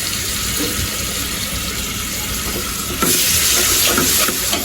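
Onion paste hits a hot pan and sizzles loudly, with stirring scrapes and a surge of hissing partway through; no one speaks.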